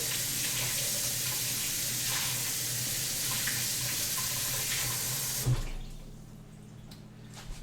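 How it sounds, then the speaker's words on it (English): Faucet water pours steadily into a kitchen sink as food is rinsed under it, a loud close hiss that stops abruptly after about five seconds, leaving a quiet room with a few small clicks. "I'm just gonna rinse this off real quick."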